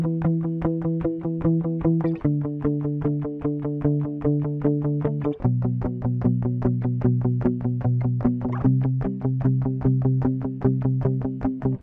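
Rock guitar loop layering an 8th-note and a 16th-note chord pattern together, a dense, steady, driving strum with regular chord changes, loud and close with no voices.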